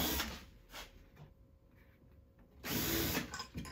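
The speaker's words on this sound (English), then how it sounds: "I'm gonna put two screws" Power drill driving two screws into a wooden stool during a simple woodworking build, with short whirring bursts at the start and again near the end, separated by quieter workshop handling sounds.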